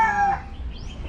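A red gamefowl stag crows once, loud and close, its harmonic call trailing off quickly into faint background noise.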